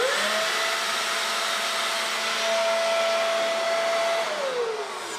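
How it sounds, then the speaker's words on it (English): A compact Worx battery-powered air blower runs steadily with a loud rushing whoosh of air and a sustained motor whine that holds level, then drops slightly at the end. "Got one of the batteries in the blower."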